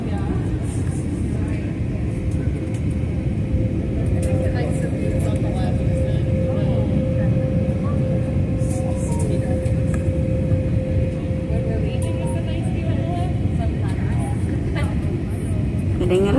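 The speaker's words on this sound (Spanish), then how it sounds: "Desde Puerto Rico estamos aterrizando a Filadelfia" Airliner cabin during landing in Philadelphia on a flight from Puerto Rico: a steady, loud broadband engine and air roar with a sustained whine, continuous throughout with faint murmuring voices underneath.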